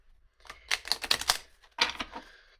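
Oracle cards shuffled in quick papery riffles, a dense burst of crisp slaps followed by a shorter second flurry, close and clear.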